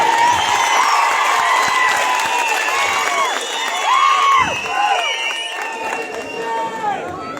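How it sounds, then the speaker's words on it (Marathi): A big open-air election rally crowd greets Omraje Nimbalkar at the Gandhi statue with sustained cheering, shouts and some clapping. The noise stays loud and continuous, with voices rising and falling throughout. "जोरदार टाळ्या वाजवून आपण ओमदानांचं स्वागत करू"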